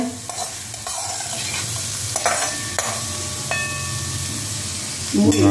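Potato, tomato and wheat rava sauté in a pan for gothumai ravai upma, a steady close sizzle with occasional spoon scrapes and clinks against the pan, and a low background hum underneath.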